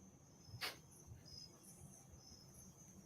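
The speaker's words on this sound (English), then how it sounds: "Crickets. We need crickets." Crickets chirp as a sound effect, a faint, steady high trill running throughout with a brief sharper click near the start, over quiet background murmur.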